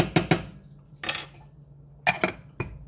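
A spoon knocks and scrapes against a pot of rice while it is stirred: a few separate sharp clinks come in small bursts, close and fairly loud, with quiet gaps between them.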